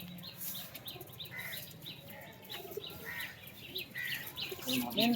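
Short-size high-flyer pigeons coo and chirp in a steady bird chorus, with soft repeated calls layered over a busy outdoor background and a louder cluster near the end.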